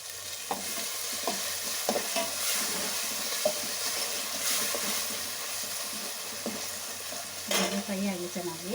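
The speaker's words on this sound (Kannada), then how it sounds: "ಫ್ರೈ ಆಗಿ ಚೆನ್ನಾಗಿ ಅದರ ಹಸಿಯ ವಾಸನೆ ಎಲ್ಲ ಸ್ವಲ್ಪ ಹೋಗೋವರೆಗೂ ಫ್ರೈ ಮಾಡ್ಕೊಳ್ಳೋಣ" Chicken frying with coriander leaves in a pan, a steady close sizzle broken by scraping stirs and occasional clinks of the spoon against the pan, with no voice over it.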